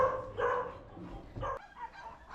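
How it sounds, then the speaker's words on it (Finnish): Dogs barking at a dog shelter in Bulgaria, several moderately loud barks and yips in quick succession, followed by quieter whining tones toward the end. "koirille, jotka elävät suurimman osan ajasta häkeissään, kovassa ja stressaavassa metelissä"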